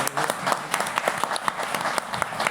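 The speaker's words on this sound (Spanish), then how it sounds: "lo primero que quisiera pedir es un aplauso más entusiasta a Facundo por su libro" An audience at a book presentation in a national library applauds, a dense, steady patter of many hands filling the room with faint voices underneath.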